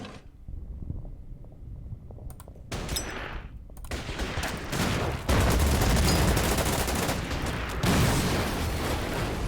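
Tanks and troops firing in the World War II strategy game Order of Battle, set in the US Pacific campaign at Bataan: dense bursts of gunfire and booming shots build from sparse cracks into a continuous loud barrage.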